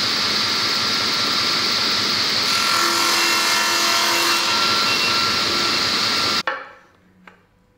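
A power saw cuts a wooden wagon seat arm, a loud, steady whining buzz that runs for several seconds before stopping abruptly, followed by a brief light knock.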